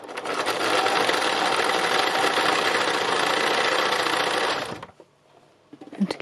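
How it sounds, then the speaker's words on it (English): Sewing machine running a medium-width zigzag stitch over a strand of wool on an autumn landscape piece, a loud steady whir for about five seconds that stops abruptly, followed by faint handling noises. "So I'm basically zigzagging this piece of wool down, and I'm pulling it a little bit taut as I stitch"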